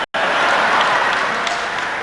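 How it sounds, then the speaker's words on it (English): Audience applause during a political speech, a steady dense wash of clapping from a large crowd after a brief silence, filling the whole moment without a break. "I can see from your applause, sisters and brothers, that you agree with the report."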